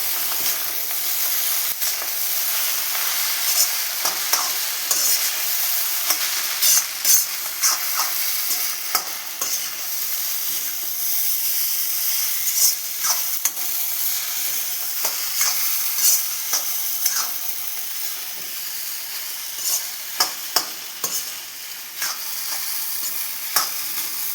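Egg noodles stir-fried with soy sauce in a hot pan, with a steady loud sizzle throughout and frequent sharp stirring clicks and scrapes of a utensil, close and continuous.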